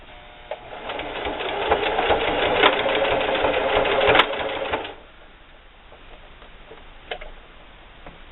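A sewing machine stitches a denim wallet in a fast, steady mechanical run with a backstitch, ending abruptly after about five seconds, followed by quieter handling clicks.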